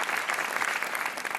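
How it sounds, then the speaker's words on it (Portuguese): Studio audience on the Portuguese TV game show Joker gives a dense, steady burst of applause, loud and continuous with no voices standing out. "Um aplauso para o Miguel Guimarães, o nosso super joker desta noite"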